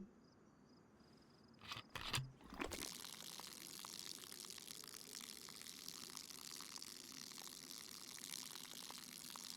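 Water poured out of a pot in the DayZ video game, a soft continuous trickle and splash that runs on quietly after a couple of brief knocks near the start.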